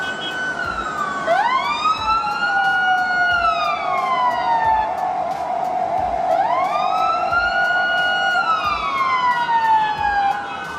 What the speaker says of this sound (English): Once the siren goes off, the cars instantly move aside,